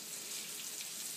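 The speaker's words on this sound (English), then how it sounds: "I'm just frying them right now just to get a good crust on the outside." Pork chops frying in a pan to build a crust, giving a steady, fine crackling sizzle at moderate volume with no talk and a small sharp pop right at the end.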